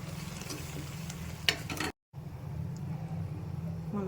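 Egg gravy masala with fenugreek leaves frying in a pan, a soft steady sizzle with a few scraping stirs and a brief break in the sound.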